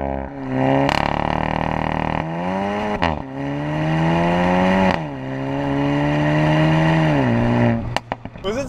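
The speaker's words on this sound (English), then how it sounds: "Let's do a full throttle send. You can do launch control if you'd like." A 2023 Volkswagen Golf GTI 40th Anniversary Edition launching at full throttle with launch control, the engine holding a steady rev, then climbing through rising, falling gear pulls, loud and close with a short cut near the end.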